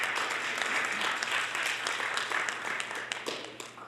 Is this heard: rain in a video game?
no